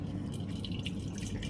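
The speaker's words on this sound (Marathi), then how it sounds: "पाणी टाक त्याच्यात." Water is poured into a container, a soft continuous trickle with faint splashing and dripping, quiet and close.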